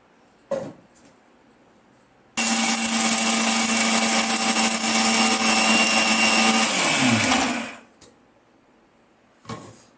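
A mixer grinder whirs loudly and continuously as it grinds coriander seeds, cumin and urad dal into a curry leaf spice powder, then spins down. A few soft clicks come before the motor starts and after it stops.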